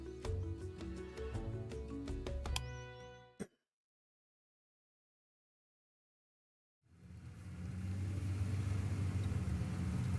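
Low, steady rumble of passing cars in a video game with a droning hum, cutting to silence for a few seconds before the rumbling traffic swells back in.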